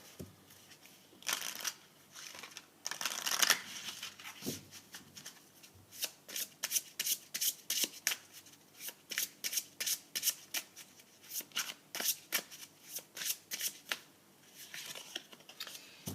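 Animal spirit guide oracle cards being shuffled by hand: quick papery riffles and flicks, first in a dense burst, then settling into a steady run of distinct, close-up slaps, with no talking.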